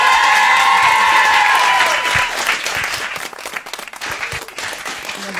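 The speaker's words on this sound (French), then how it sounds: "on applaudit très très fort" A studio audience at a French radio live session breaks into loud, close applause with some cheering as a held sung note fades out. The clapping then thins into scattered, uneven claps toward the end.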